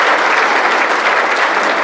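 A community crowd at a National Night Out gathering gives block captains a burst of applause: dense, continuous, fairly loud clapping with no gaps.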